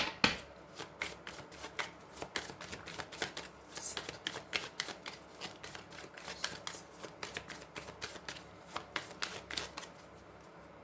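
Lenormand oracle cards being shuffled for a five-card reading, a steady run of soft riffling flutters and quick card snaps with no voice over them.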